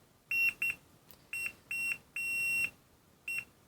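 A Fluke 83 digital multimeter on continuity emits high, pure electronic beeps that cut in and out intermittently, about six bursts of varying length, close and clear with no talk, as if the test leads are dirty and making poor contact.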